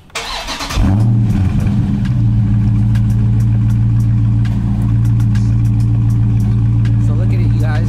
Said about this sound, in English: Now turn on the car